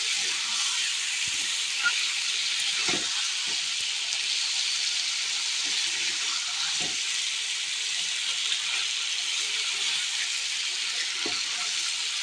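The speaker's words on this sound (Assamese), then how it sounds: "এনেকৈ অলপ সময় ভাজি থাকিব। অলপ সময় ভাজিবই লাগিব।" Chicken pieces frying in a pan give off a steady, soft sizzling hiss throughout, with a few faint clinks and taps from stirring; no talking.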